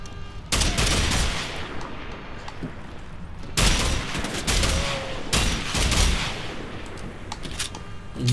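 Automatic gunfire in Wolfenstein The Old Blood comes in loud, sustained bursts separated by short pauses, close and dense, with rattling shots and booming impacts.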